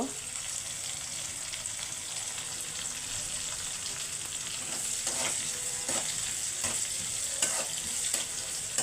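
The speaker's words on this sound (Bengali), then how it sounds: "এখন শাক ভাজি করব" Red amaranth greens (lal shak) fry in a pan with a steady broadband sizzle, stirred with repeated scraping strokes that grow more frequent toward the end; no one speaks.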